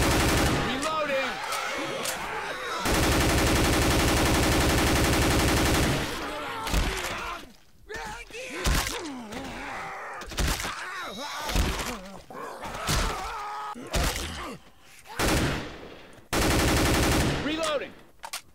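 Bursts of M4A4 rifle fire in a shooting game. Long, loud sustained automatic volleys alternate with shorter clusters of sharp close shots and reload clatter, with someone talking between the bursts.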